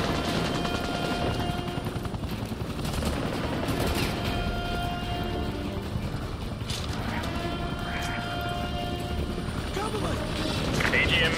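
An enemy helicopter's whirring rotors mixed with bursts of automatic gunfire in Call of Duty Modern Warfare 2 Remastered, set at a gulag, with a voice speaking over the steady din.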